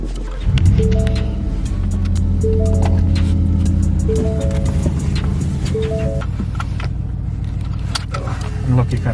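A supercharged Shelby drives off with a deep, rumbling engine note and low exhaust throb that stays steady and close, while people talk over it.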